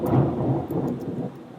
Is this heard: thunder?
yes